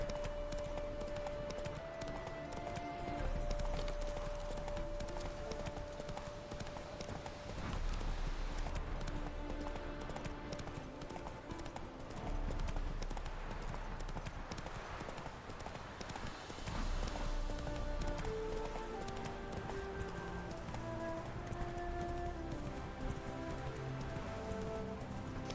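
Hooves of the horse Roach clip-clop steadily in The Witcher 3, a continuous rhythmic trot or gallop under game music and ambient noise, with no talk heard.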